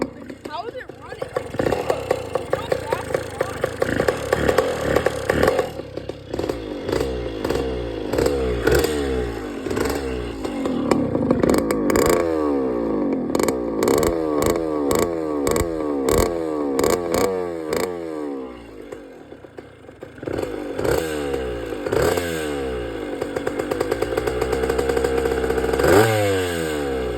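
A 1986 Kawasaki KDX 80 two-stroke dirt bike engine cold-starts and runs, revving up and down in repeated bursts. The revs are close and loud, with clattery pops between them, and people talk over the engine at times.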